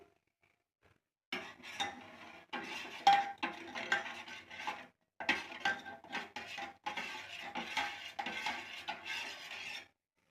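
Fruit salad with sugar being stirred in a pan: repeated scraping and clinking of a utensil against the metal in irregular bursts, fairly close, with short pauses between strokes and no talking.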